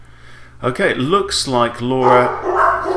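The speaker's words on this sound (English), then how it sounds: "Daughter's arriving home, so the dogs are being welcoming." Dogs bark excitedly in short, loud yips and woofs to welcome someone arriving home, mixed with a person speaking over them nearby.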